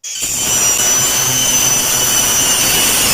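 A power tool starts abruptly and runs with a loud, steady, high-pitched whine, close up and continuous, while cutting a board for a Piston Cup race track.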